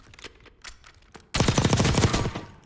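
A Kilo 141 assault rifle with a regular suppressor fires in a Warzone firing range, starting with scattered single shots and then breaking into a loud, dense burst of rapid automatic fire that lasts to the end.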